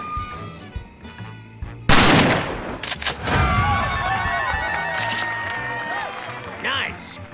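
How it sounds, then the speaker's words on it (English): Sniper rifle shots in the video game Xa Chien: a sharp, loud blast near the two-second mark, then further gunfire bursts and electronic game effects over several seconds, with a voice talking. "Press right mouse to look through your scope, then press left mouse to fire."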